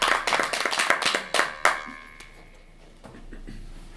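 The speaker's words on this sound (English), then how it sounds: "Let's give some applause to number 2." Players at a game table break into a brief burst of clapping, several sharp claps in quick succession that fade out after a couple of seconds, leaving quiet room noise.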